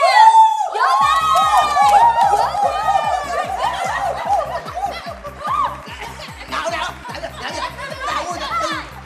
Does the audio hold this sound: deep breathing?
no